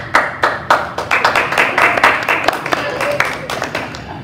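A church congregation claps at a Sunday celebration service, with sharp individual claps in an uneven rhythm that build into a brief burst of applause, close and fairly loud, then thin out toward the end.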